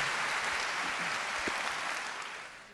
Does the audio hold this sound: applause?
yes